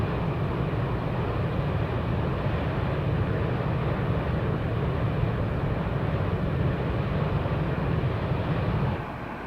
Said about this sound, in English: Beautiful sounds, by the way, in this aircraft as well